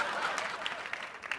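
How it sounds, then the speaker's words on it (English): One audience member claps in a comedy show's crowd, a quick close patter of hands with faint room noise and murmuring. "One guy is applauding this down here."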